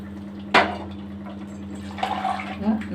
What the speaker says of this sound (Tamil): இப்போ நம்ம தண்ணி ஊற்றலாம்.